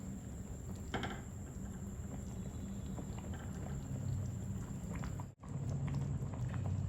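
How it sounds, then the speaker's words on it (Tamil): A pot of Andhra-style chicken biryani boils steadily in a pressure cooker with a continuous bubbling, rumbling hiss, evenly loud throughout, with one brief dropout near the end. "நான் சொன்ன மாதிரி நல்லா கொதிக்குது"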